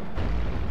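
Explosions in the tower-defense video game iBomber Defense, heard as a brief, loud, deep rumbling blast that fills the moment with no voice over it.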